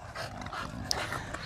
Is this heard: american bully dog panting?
yes